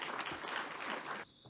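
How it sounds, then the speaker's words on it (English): Audience applause at a conference session, a dense wash of clapping from a crowd that holds steady and then cuts off abruptly near the end, leaving quiet room tone. "if we can give him a round of applause"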